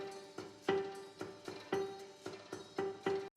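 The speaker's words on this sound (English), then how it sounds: "Ishani on the piano has to lean inside the piano to dampen the strings" A piano is played with its strings dampened by fingers inside the instrument, giving a run of about eight short, muted, plunky notes in an even repeating rhythm, close and moderately soft, with no voices.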